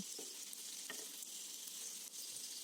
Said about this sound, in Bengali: সেঁকে নিয়ে তারপরে তেলের মধ্যে দিয়ে ভেজে নেবে